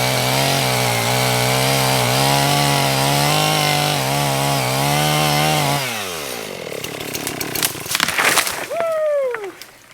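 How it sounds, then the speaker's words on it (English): A larger chainsaw runs at a loud, steady roar, then drops off and sputters down as the felling of a dead pine tree ends, leaving cracking and rustling wood sounds close by. "So Farmer Nathan's getting our larger chainsaw. We're going to be felling that one"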